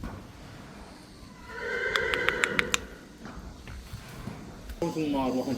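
A horse neighs nearby, a loud whinny with a sharp rising burst that then fades, heard among other horses and a donkey, with people talking over it and a second, softer call near the end.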